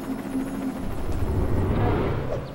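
A helicopter touching down in the Lego City Undercover video game, its steady rotor drone and engine rumble filling the whole stretch without any talk.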